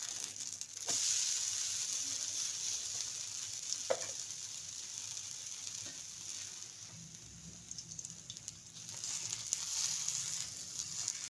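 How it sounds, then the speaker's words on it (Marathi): Onion uttapam frying in ghee on a pan, a soft continuous sizzle with a few faint taps and scrapes, heard alone without talk. "आता आपण साईडून असं तूप सोडायचं नाहीतर बटर सोडा तेल सोडा आणि हे पलटे काढायचं"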